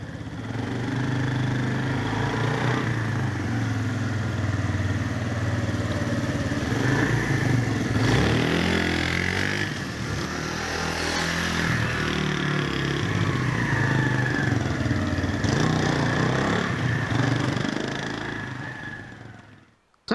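Bullit Bluroc 125 motorcycle running a slalom test, its small single engine droning close and steady with repeated rises and falls in revs through the turns before cutting off at the end.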